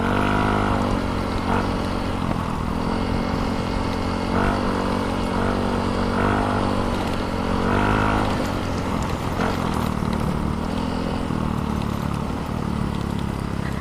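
A Yamaha Mio Soul 125 scooter with 10 m fly balls and a modified pulley revs loudly up close, its engine droning steadily while the pitch rises and falls with repeated throttle blips.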